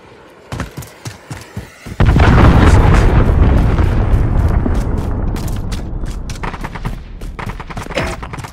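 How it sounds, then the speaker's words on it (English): Call of Duty: Modern Warfare combat opens with a few sharp gunshots, then a cruise missile strike hits in a loud, sustained explosive roar at two seconds, fading slowly under scattered rapid gunfire. "Cruise missile away."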